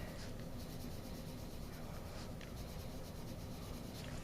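Green colored pencil rubbing back and forth across paper while shading in an area, a steady close scratchy scribble that continues without pause.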